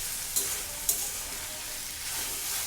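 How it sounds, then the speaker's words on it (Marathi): Hakka noodles and vegetables with chilli, soy and tomato sauce are tossed over a high flame with a bright, continuous sizzle. Two sharp utensil clicks come near the start, and the sizzle stays close and steady. "चिली सॉस, सोया सॉस आणि टोमॅटो सॉस ते देखील आपण यात टाकूया आणि चांगलं परतून घेऊया"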